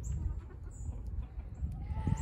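Chickens in a backyard chicken run, with steady low clucking and murmuring from the flock and a few brief higher calls over a close, constant scratchy background, no people talking.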